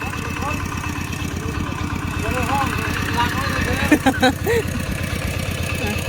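Vehicle engine held in fourth gear, apparently a farm vehicle working in a paddy field during rice planting, runs at a steady, fairly light pulsing drone throughout, with people talking over it near the end.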